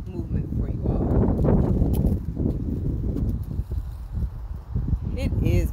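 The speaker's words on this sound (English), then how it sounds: "It is very windy today" Strong wind buffets the microphone in a steady, roaring rush, with gusty thumps and rustling throughout.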